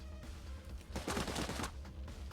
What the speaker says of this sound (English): they hear the gunfire